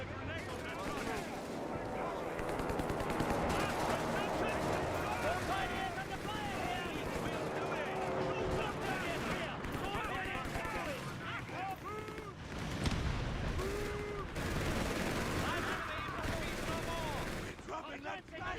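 Dense gunfire from enemy forces in a war video game rattles continuously, bursts and volleys layered with explosions and shouted radio chatter across the whole stretch, loud and busy with no quiet gaps.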